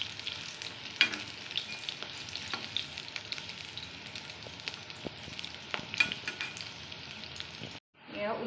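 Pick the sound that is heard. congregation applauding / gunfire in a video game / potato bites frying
potato bites frying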